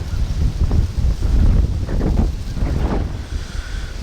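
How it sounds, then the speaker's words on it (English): Strong gusty wind of 15-20 mph buffets the microphone, rising and falling in heavy rumbling surges with no voices. "we've got stiff 15-20 mile an hour wind gusts this morning"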